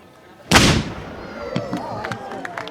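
A ceremonial gun fires a single loud, sharp blast at a Fourth of July ceremony in Fairhaven, followed by a crowd reacting and talking in the background.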